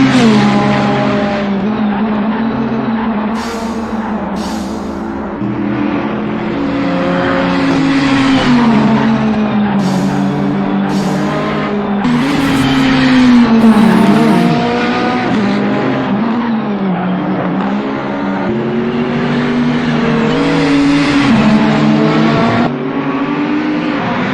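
GT3 race cars, including a Nissan GT-R, roar around Circuit of the Americas with loud, sustained engine drone. Revs climb and fall through gear shifts and braking, with occasional tire squeal, passing close by.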